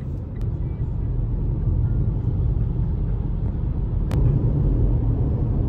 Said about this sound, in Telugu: ఫుల్ ట్రాఫిక్ ఉన్నది కదనే